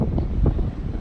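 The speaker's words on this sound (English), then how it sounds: "it's windy as hell, guys, but about to do a little bit of mini golfing" Wind buffets the microphone on the open deck of the Carnival Liberty cruise ship in the Bahamas, a steady low rumbling roar with gusts swelling briefly, loud and close, with no talk.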